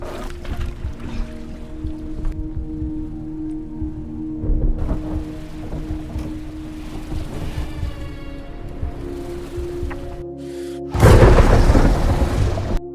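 Thunder rumbles over a boat at sea during a storm, with rain and low booming rolls building to a loud, sharp crack near the end.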